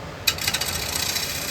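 A bowl gouge with a 40/40 grind cuts into spinning wood on a lathe, giving a sudden airy whoosh that settles into a steady, close hissing shear with faint rhythmic pulses.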